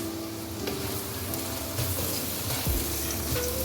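Chopped tomatoes fry with ground red chilli, crushed red chilli and turmeric as they are stirred together for an arvi sabzi, a steady low sizzle with light scraping, close and moderately quiet, no talking.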